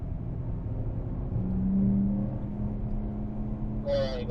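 A BMW M4 accelerating on the race track at the Circuit of the Americas, a steady droning engine note with rising tones, heard from inside the car at moderate loudness without talk.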